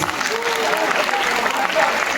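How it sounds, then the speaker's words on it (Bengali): Audience clapping at a college freshers' welcome program in Malda, a dense, steady wash of applause from a crowd lasting a couple of seconds, fairly loud and close. "তোমরা একটু জোরে হাততালি দেবে প্লিজ"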